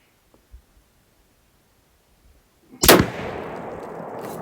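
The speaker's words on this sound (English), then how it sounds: "we'll go ahead and do 3 shots just to the right because I do want to be fair with this rifle" A single sharp, loud report from a Desert Tech SRS M2 rifle chambered in .338 Lapua, fired at a long-range target, followed by a sustained rumbling echo after a quiet lead-in.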